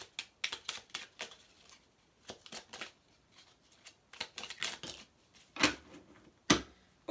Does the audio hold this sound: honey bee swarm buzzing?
no